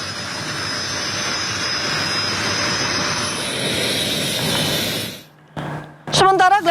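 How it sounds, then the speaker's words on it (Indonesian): A Dassault Rafale fighter jet roars overhead in a steady, loud, continuous rush for several seconds before cutting off abruptly, followed by a voice speaking. "penampilan perdana jet tempur terbaru Dassault Rafale"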